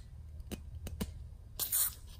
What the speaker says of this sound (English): That way I can just spray